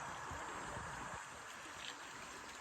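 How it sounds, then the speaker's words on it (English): River water rushes steadily while hikers ford a river in the 100 Mile Wilderness, a constant broadband wash close by, with some low sloshing in the first second and no talk. "This is how you ford a river."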